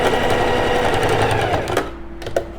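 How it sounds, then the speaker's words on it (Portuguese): A sewing machine stitches a trouser fly and its extension together, running steadily and loudly, then slowing to a few short stitches at the end. "faz uma costurinha só para poder prender esses dois juntos, tanto a braguilha como a extensão"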